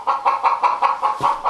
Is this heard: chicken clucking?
yes